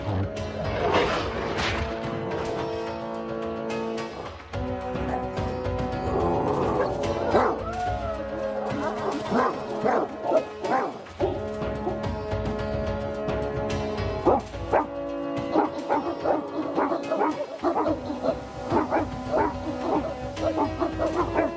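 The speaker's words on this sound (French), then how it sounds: "Ils sont super forts, ces chiens." Tibetan plains dogs in an animated film bark, howl and yip in a loud, busy pack chorus that runs over a swelling orchestral score throughout.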